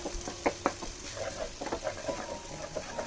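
Sago pearls roasting in ghee over a medium flame while being stirred, with soft scraping and clinks of a spoon against the pan, a few sharper taps and a faint sizzle, all quiet and close with no talking.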